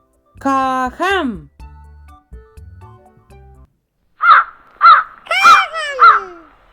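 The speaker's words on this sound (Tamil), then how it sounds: "காகம்." Crow cawing in four harsh, separate calls after a voice speaks; the caws come fairly loud and close, evenly spaced.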